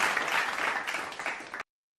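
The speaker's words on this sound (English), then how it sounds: "I'm gonna clap for you again." A small group claps steadily during a panel discussion on Nigeria–Ghana tensions, a short, even burst of applause that stops abruptly.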